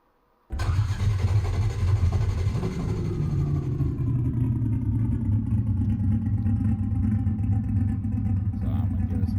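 A Foxbody Mustang's engine cranks and catches with a sudden loud roar, briefly settles in pitch, then holds a deep, steady, rumbling idle close by.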